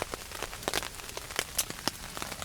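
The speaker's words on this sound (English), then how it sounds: "It's a steady drizzle that's going on." A steady drizzle of rain patters on a tarp in the woods, with many small irregular drops tapping close by, some crisp and sharp, over a soft continuous wash.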